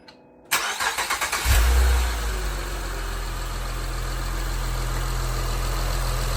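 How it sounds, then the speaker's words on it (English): A Honda Legend (KB1) engine with a new timing belt kit cranks with a quick rhythmic chugging of the starter, catches with a roar, then settles into a steady low idle without rattling. "So we're going to give it a crank now and see how it goes."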